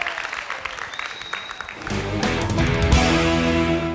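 A studio audience at a televised singing duel bursts into applause partway through, a dense, close clapping that swells and holds steady, with music underneath.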